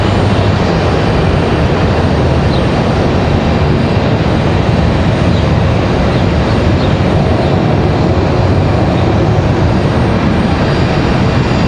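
Sun Country airliner at Raleigh-Durham airport, a very loud, unbroken broadband engine roar that stays level throughout, close by and with no voices.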